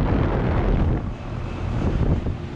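A rusty 1989 Carrier Tech 2000 3-ton central air conditioner with a makeshift fan motor runs outdoors, making a steady, broadband rushing whir that stays close and fairly loud throughout.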